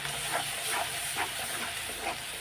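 Spices sizzling in a pan as turmeric and Kashmiri chilli powder are sautéed for a Bengali jackfruit and prawn dish, a steady close hiss with soft rhythmic bursts of crackle, no talking.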